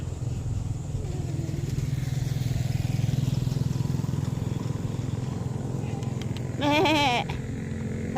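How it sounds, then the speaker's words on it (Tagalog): A goat gives one short, wavering bleat near the end, loud and close, over a steady low engine hum that runs throughout. "Hello, kambing."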